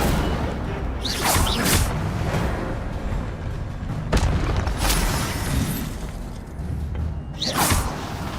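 A fire spell is cast in a video game, with repeated whooshing bursts and booming flares over a rumbling low background, several strong swells spaced a few seconds apart.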